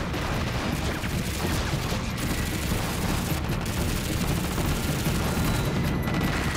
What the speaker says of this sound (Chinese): 停止射击，